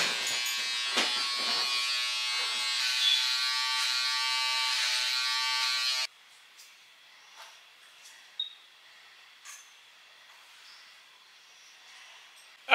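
An electric trimmer buzzes steadily and loudly for about six seconds while tidying the perimeter of a synthetic Amazon wig, then cuts off, leaving faint handling noises and small clicks.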